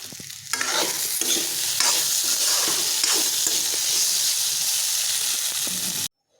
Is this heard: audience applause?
no